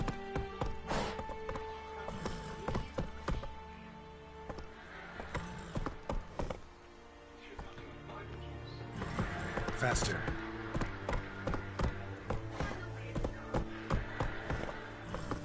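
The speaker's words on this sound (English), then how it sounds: "Getting the horse up the stairs," Horse hooves clattering in a PS4 video game, irregular clip-clop steps that pause and resume with the in-game sounds, while a player talks over them throughout.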